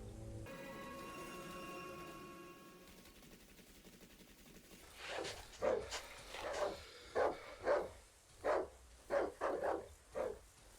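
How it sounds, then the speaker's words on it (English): Dogs in the survival horror game Darkwood bark in a rapid string of loud, close yelps, about ten sharp barks in quick succession following a low droning ambient hum. "You can sort of kind of walk away from those dogs as long as they don't start to chase you"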